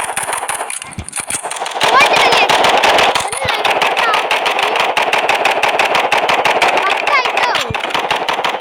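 Rapid video game gunfire cracks in a long, fast, continuous stream of close, loud shots, with occasional voices underneath.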